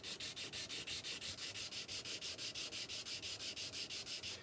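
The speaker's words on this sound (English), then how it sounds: "I'm just going to start taking a little bit off that nut" Sanding down the nut of a Washburn guitar during a setup, an even, rhythmic back-and-forth rasp of close strokes repeating steadily about five times a second.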